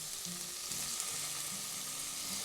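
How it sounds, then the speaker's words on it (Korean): Mushrooms stir-frying in a hot pan with garlic, green onion and ginger give a steady, close sizzle, with soft rhythmic stirring scrapes recurring throughout. "버섯도 한 1분 정도만 볶아주면 됩니다"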